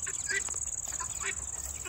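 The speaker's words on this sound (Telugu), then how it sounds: "ఇందులోనే పడి తిరుగుతున్నాయి బాతులు." Ducks wandering among fallen fruit on a vegetable farm give short, repeated quacks at close range over a steady noisy background.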